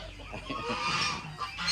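Ducks at a Felda settler's farm coop quack and cluck faintly in a short burst of mixed poultry calls at moderate distance.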